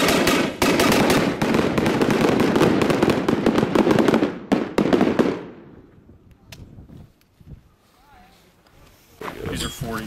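Volley of flash-bang rounds fired from a non-lethal launcher at a trade show range: a rapid crackling barrage of sharp bangs that stops abruptly, followed by quieter scattered pops and people talking nearby.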